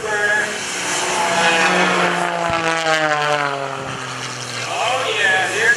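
Jet airplane with a General Electric J85 engine and afterburner at an airshow, a loud sustained roar with a shifting whine as it passes, under an announcer's voice.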